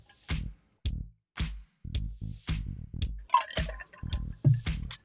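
Water splashing and dripping in short wet bursts, a rapid irregular series of squishy slaps and drips with brief gaps, close and fairly loud.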